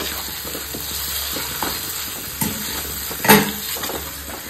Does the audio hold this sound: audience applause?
no